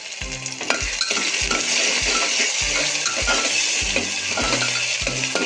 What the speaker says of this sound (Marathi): छान असं तेलात तळून घ्यायचं बांध कांदा